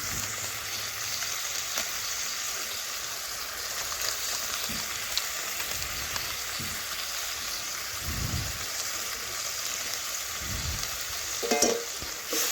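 Mustard-green chili paste with turmeric and Kashmiri chili powder sizzles in a pan while being stirred, a continuous close frying hiss broken by scraping stir strokes, with no talking.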